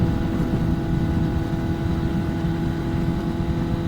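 Kawasaki Ninja ZX10R motorcycle engine and exhaust running steadily at close range, a continuous raspy low drone with a rough, even texture and no pauses or talk.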